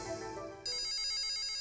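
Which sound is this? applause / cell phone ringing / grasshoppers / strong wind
cell phone ringing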